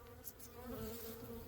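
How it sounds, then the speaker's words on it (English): Honeybees buzz around a hive in an apiary, a brief, faint, steady hum close by. "We got lots of bees."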